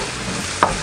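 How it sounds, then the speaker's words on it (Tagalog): Garlic frying in a pan until golden brown gives a soft, steady sizzle, with one brief sharp scrape or stir near the end of the short moment. "huhintayin lang po natin na medyo mag-golden brown po tong ating bawang"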